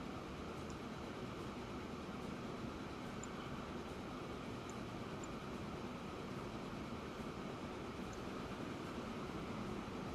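A freight train pulls in within the Transport Fever game, a steady, continuous rail rumble and hiss that holds evenly throughout with no voices.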